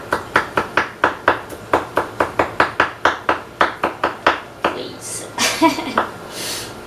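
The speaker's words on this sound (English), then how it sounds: "I always have a hard time cutting garlic" A knife chops garlic on a cutting board in a steady run of about twenty sharp, close taps, then the rhythm breaks into a few scraping, clattering sounds.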